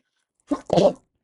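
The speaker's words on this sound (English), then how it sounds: "oh, I have to sneeze." A single sneeze: a short sharp intake followed by an explosive burst, alone in otherwise silent surroundings.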